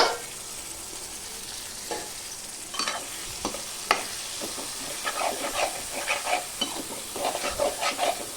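Fish curry sizzles softly in a pan on low heat as it is stirred, a constant close hiss broken by intermittent scraping and light knocks of the spoon against the vessel, with no talk.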